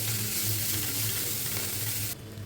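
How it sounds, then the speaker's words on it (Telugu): Chana dal is stirred into coconut already fried in a pan for a Telugu chana dal and coconut curry, giving a close, even sizzle with faint scraping that cuts off abruptly near the end. "ఇప్పుడు ఈ శనగపప్పుల్ని యాడ్ చేసుకొని మంచిగా మిక్స్ చేసుకోవాలి."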